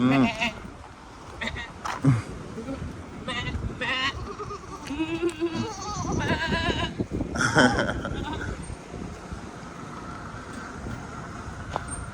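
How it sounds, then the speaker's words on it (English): Goat bleating outdoors in a storm-damaged area, several wavering calls spread across the clip amid background noise and people talking. "That is the goat language."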